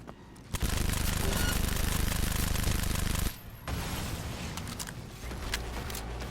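Rapid gunfire from the Problem Solver, a legendary-upgraded gun in a video game firing nearly 16 rounds per second, comes as a loud, dense continuous burst, then a brief pause, then more sustained firing with game effects.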